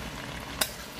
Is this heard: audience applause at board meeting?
no